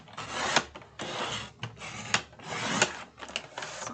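A piece of Dollar Tree cardboard box is trimmed with steady rasping strokes, a run of close, scratchy cuts in a rough repeating rhythm.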